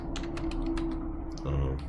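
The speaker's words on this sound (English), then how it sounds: "I think we finished typing." Quick clicks of typing on a computer keyboard sound over a steady low hum, fairly faint and close, while working through a logarithmic differentiation homework problem.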